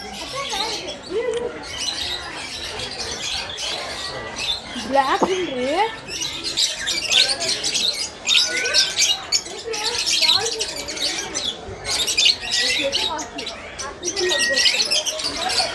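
Birds chirp and tweet in Shilparamam, a busy outdoor park in Hyderabad's Hitech City, with bright repeated calls scattered throughout, close and fairly loud, alongside a person talking.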